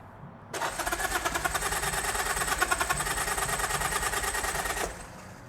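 A 1972 Norton Commando custom motorcycle's electric starter cranks in a fast, buzzing whir for about four seconds, close and fairly loud, then cuts off abruptly.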